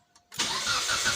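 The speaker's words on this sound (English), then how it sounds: "so the vehicle started up pretty well" A 2005 Mitsubishi Lancer with an intermittent hard-start fault cranks briefly and catches at once, settling into a steady close idle.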